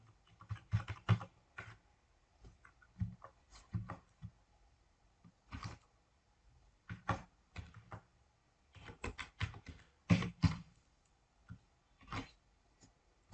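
Irregular bursts of keystrokes on a computer keyboard while entering a topic title into a Google Slides presentation, clustered clicks with short pauses between, close and fairly quiet with no talk.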